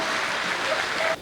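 Audience applause at a Hindi kavi sammelan poetry gathering: a brief, steady wash of crowd clapping that cuts off abruptly after about a second.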